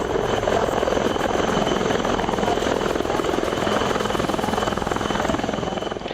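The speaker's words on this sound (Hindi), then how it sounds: "वायुसेना के हेलीकॉप्टरों की कड़कड़ाहट दुश्मनों की नींद उड़ाने वाली है।" An Air Force helicopter lands on a snowy surface at high altitude, its rotor roaring loud and close in a steady, fast chopping pulse that fills the whole stretch without pause.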